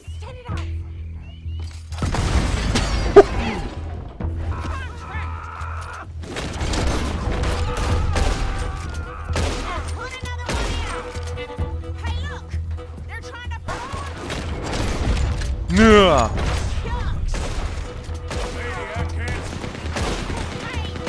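Gunfire in Red Dead Redemption 2, with repeated bursts and shots scattered through a busy in-game fight, alongside thumps, a loud blast near the start and another surge later, under an excited voice talking throughout.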